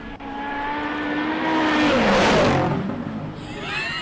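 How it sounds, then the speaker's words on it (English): A race car four-wheel drifting through the S-bends at the Simola hill climb: a loud engine wail rises and swells as the car passes close, then fades, with a tyre squeal at the peak. "Four-wheel drifting."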